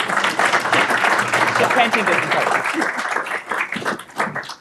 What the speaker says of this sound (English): let's give our two panelists a round of applause